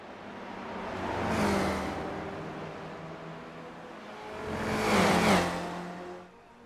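Race car engines roar in a sim racing video game at Watkins Glen, two cars swelling past one after another, each rising to a loud whine and fading, over a steady background of engine drone.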